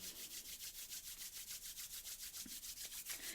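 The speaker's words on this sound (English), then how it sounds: "So rub your hands together," Two hands rub briskly together in a steady back-and-forth rhythm. The dry, close swishing repeats evenly and quietly throughout.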